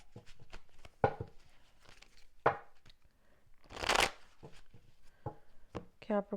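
Tarot cards being shuffled by hand in a quiet room, with irregular papery riffles and taps, and one longer burst of cascading cards near the middle, close and fairly soft.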